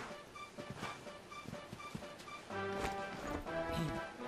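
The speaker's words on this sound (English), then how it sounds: "let's back on a horse and head to Heliodor" Galloping horse hooves in the video game Dragon Quest XI, a steady clip-clop rhythm of riding under game music, moderately loud and continuous.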